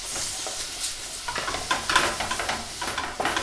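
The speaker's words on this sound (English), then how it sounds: "Give that a lovely stir around." Vegan bolognese sauce stirred in a pan, with a steady sizzle and scraping, clacking strokes of the spoon against the pan, close and clear with no talking.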